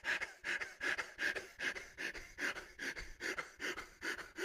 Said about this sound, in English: I'm out of breath.